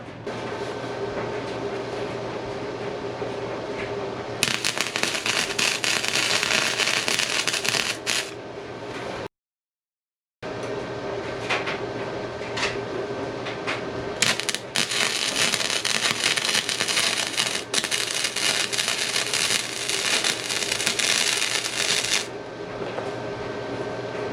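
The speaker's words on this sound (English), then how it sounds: "this is gonna be attempt number 1 at welding" Welding a metal plate onto a Honda EK hatch: a loud, continuous crackling and sputtering hiss that runs in long bursts, with a brief silent break between welds.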